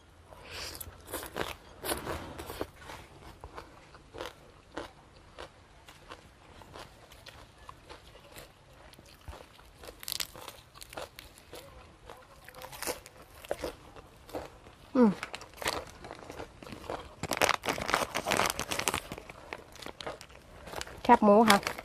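Crispy pork rinds are crushed by hand while preparing a Thai rice-noodle and shrimp salad, giving scattered close crackling crunches that grow louder and denser toward the end.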